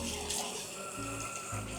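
Water runs steadily from a tap as hands are washed, a continuous splashing hiss with a faint voice nearby.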